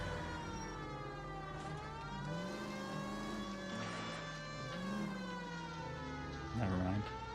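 A police car siren in the video game L.A. Noire wails steadily in rising and falling sweeps, with a brief car horn honk near the end, all played loud and continuous.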